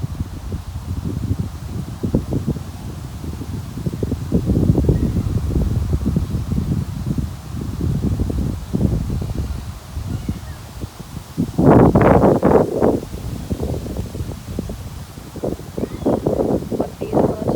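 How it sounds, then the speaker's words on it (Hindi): Strong wind gusts through fallen leaves at an outdoor scenic spot, a continuous rushing roar with loud surges and rustling bursts, strongest near the middle, with heavy wind buffeting on the microphone throughout. "बहुत तेज़ हवा चल रही है"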